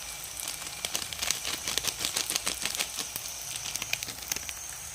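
Sliced onions frying in oil after turmeric and Kashmiri chili powder are added, giving a busy, continuous crackling sizzle with quick pops, close and steady with no talking.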